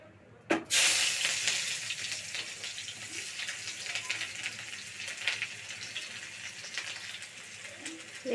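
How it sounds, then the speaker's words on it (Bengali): Hot oil sizzles and hisses steadily in a pan while vegetables are being cooked, starting with a sharp burst near the beginning and holding a bright, continuous crackle throughout with no talking. "তেল গরম হয়ে গেছে, দিয়ে দেবো আমি পেঁয়াজগুলো"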